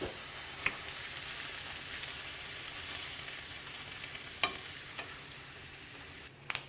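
Big tomato chunks sizzling in a pan for Italian sausage and peppers, a steady, fairly quiet frying hiss with a few sharp clinks, no talking.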